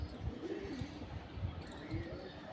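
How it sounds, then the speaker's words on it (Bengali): Pigeons in a loft, including a male, give soft repeated low cooing calls at close range, quiet and rhythmic with a few faint chirps in the background. "এটা নর পায়রা"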